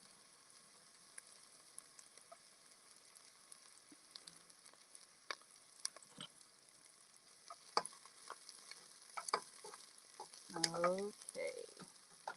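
Onions sizzling gently in a soup pot with the heat turned down, a faint crackle with scattered soft pops, growing busier toward the end, with a brief word spoken.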